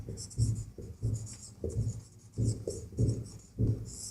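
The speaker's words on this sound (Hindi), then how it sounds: "यहाँ लिखते हैं हल" Pen or chalk writes out a coordinate-geometry math solution in steady rhythmic strokes, about six distinct scratching bursts evenly spaced and close, with no talking over them.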